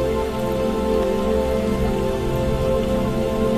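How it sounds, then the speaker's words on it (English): Rain falls steadily in a dense, even patter of drops on a surface, continuous and fairly loud without any voices. "Imagine you are in this rain right now"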